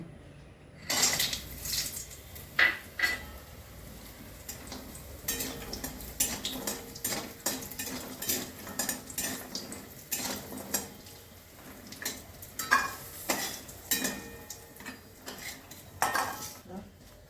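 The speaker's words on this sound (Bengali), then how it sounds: "প্রথমেই আমি বড়িগুলো ভেজে নিচ্ছি।" Lentil dumplings (bori) fry in mustard oil in a home kitchen pan, with a spatula repeatedly clattering and scraping against the metal over a faint, low sizzle, in uneven bursts close by.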